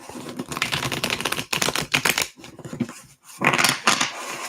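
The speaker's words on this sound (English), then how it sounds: "Let's make sure that I'm not shuffling them the wrong way." An Alice in Wonderland tarot deck is shuffled in quick, loud bursts of rapid papery riffling, with brief pauses between runs of card flicking.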